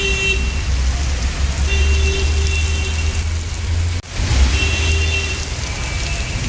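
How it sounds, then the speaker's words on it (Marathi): Heavy rain pours down steadily near a road and parking area in Pune, a loud continuous hiss with traffic rumble beneath and a brief dip partway through. "लईच पाऊस आहे बघा."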